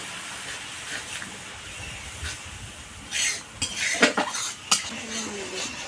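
A masala spice paste for a snakehead fish kalia is sautéed in a pan with a little water, giving a soft steamy hiss under clinks and scrapes of a utensil against the pan, louder toward the end.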